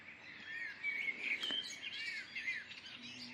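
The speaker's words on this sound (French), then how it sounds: "bienvenue dans cette matinale méditative au chant des oiseaux" Morning birdsong, fairly faint, with overlapping high chirps and whistled trills from several birds and a faint insect-like buzz, no voices.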